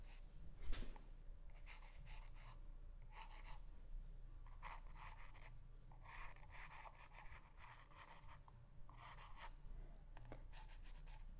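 A pencil draws straight construction lines on paper for a sphere, making soft, quiet scratchy strokes that repeat in short bursts with brief pauses between them.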